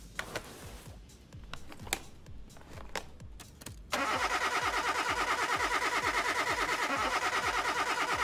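A car engine cranks over in Car Mechanic Simulator 2021, a car whose ignition coil was the suspected fault. Short, halting starter bursts give way after a few seconds to a loud, steady idle with a rapid pulsing rhythm.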